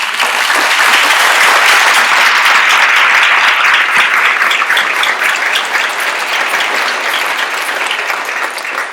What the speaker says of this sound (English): I would like to just have a round of applause for our panelists